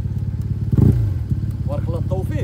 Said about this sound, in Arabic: بسم الله نديماريو الموتور وغادي تسمع ليا الصوت ديال الاكرا حتى هي